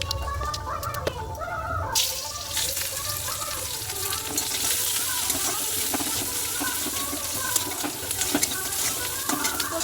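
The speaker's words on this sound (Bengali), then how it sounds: "ডালটা সাঁড়াল দেবো বলে শুকনো লঙ্কা কাটা দিলাম" Dry red chillies crackle and sizzle steadily in hot oil for tempering dal, a dense continuous frying hiss with stirring clatter, close and loud, a voice speaking over it at times.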